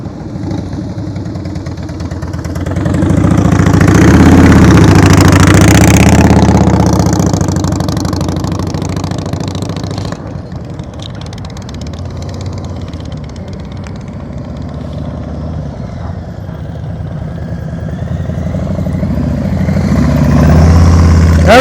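A motorcycle engine runs at very low throttle during slow-speed riding practice, a steady low drone that swells and eases, fairly close and heard alone without talk.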